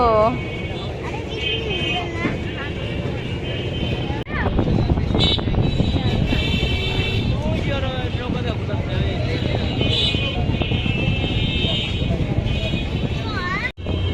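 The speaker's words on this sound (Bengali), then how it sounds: "এটা বোধ হয় মোটর লাগানো, ইঞ্জিন লাগানো, ইঞ্জিন।" An engine-powered motorboat on the water drones steadily and loudly throughout, a constant mechanical hum beneath nearby people chatting.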